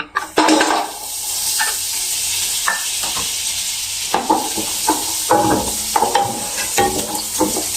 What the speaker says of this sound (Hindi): तो सबसे पहले बटर डाल देंगे,